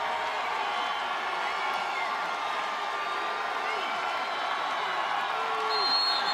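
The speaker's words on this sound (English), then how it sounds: "For the first time today, we hear this crowd of Jacksonville State making the noise" Home crowd of Jacksonville State fans roaring during a 2010 NCAA FCS playoff football game against Wofford, a dense, steady wash of cheering and shouting heard from a distance, with a commentator's voice faintly over it.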